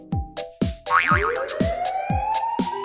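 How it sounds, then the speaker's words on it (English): A cartoonish fire truck siren wail sweeps upward under a string of springy boing sounds, loud and close, with no talking. "It's a siren, that's what it is."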